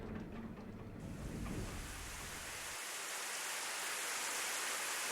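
Steady, dense hiss of rain pouring down, broad and continuous, with a low rumble fading out early on.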